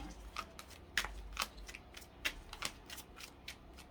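Tarot cards being pulled from a deck, producing sharp papery flicks and snaps at irregular intervals, close and fairly quiet, with no voice.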